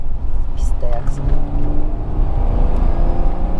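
A turbocharged car's engine hums and drones steadily at close range, with a muted exhaust note underneath, while people talk over it.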